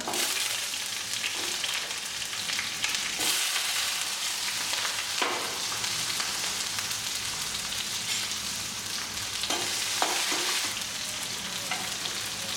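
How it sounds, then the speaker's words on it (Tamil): Onions sautéing in hot oil with mustard, cumin and fennel seeds for a vegetable kurma, a constant close crackling sizzle like rain with occasional stirring scrapes, no voices. "கடுகு போட்டுக்கோங்க வெங்காயத்தை போட்டு வதக்கலாம்"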